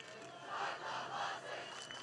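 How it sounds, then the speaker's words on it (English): A high school football student section chants in unison during a Hudson Raiders game against Menomonie, a distant rhythmic crowd cheer rising and falling in two swells. "Start the buses is the cheer by the Hudtown crew"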